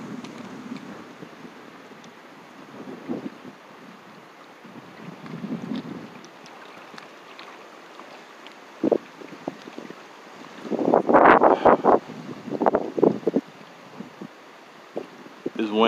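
Gusty wind buffets a microphone on a shore while fishing, a steady low rumble swelling into stronger bursts near the end.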